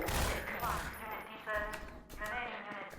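Squad gunfire erupts in a Half-Life 2 battle against Combine forces, bursts of shots and a busy game mix crackling throughout, with voices calling out over the fighting.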